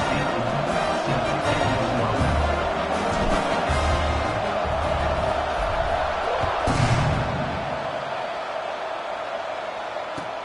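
Stadium crowd roaring at an American football game kickoff, a sustained loud wall of cheering and noise with a few thuds and bursts, tapering slightly toward the end.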